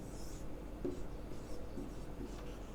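Someone writes on a board during a chemistry lesson on ethers. The faint, close scratching and rubbing strokes come in short bursts across a quiet room.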